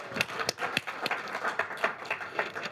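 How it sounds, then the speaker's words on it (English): Sparse applause from a small group at a training session, a few distinct hand claps in an uneven rhythm, fairly quiet and somewhat distant, with no voices over it. "Give yourself a round of applause."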